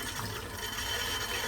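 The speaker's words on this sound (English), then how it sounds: "I shall rinse the brush out" Water runs steadily over a shaving brush being rinsed, a soft continuous splashing trickle at low level with no voices.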